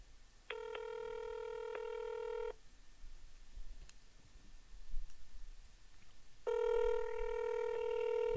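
At a police precinct, a telephone rings unanswered: a long electronic ring tone sounds, a quiet pause with faint clicks follows, then a second ring begins, clear and fairly close.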